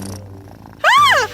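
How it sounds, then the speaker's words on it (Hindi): A cat's purr-like rumble runs softly at first, then a sudden loud, wavering cry swells over it near the end, with no talking. "यह बिल्ली है।"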